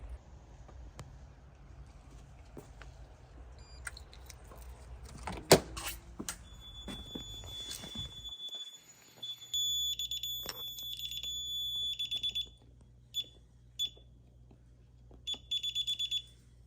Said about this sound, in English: fire alarms are ringing